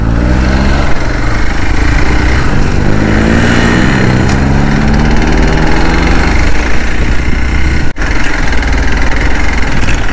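A motorcycle engine runs loud and close for an off-road ride near Kodaikanal, a continuous rough drone with shifting revs and a brief dropout near the end.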